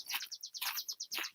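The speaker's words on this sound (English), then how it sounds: "that's a loud bird." A loud small bird in a roadside tree chirps in quick repeated bursts of high, bright tweets, close and clear with no talking.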